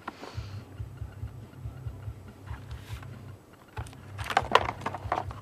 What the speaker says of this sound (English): And here's the keyboard. You can hear it, it's clicky kind.